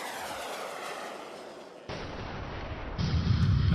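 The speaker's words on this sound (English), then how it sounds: "Another aircraft's been hit by a tail gun." Cannon fire from a bomber's tail gun strikes a Hornet fighter in a naval combat simulation game, with heavy rumbling bursts that rise in stages and grow louder and deeper toward the end.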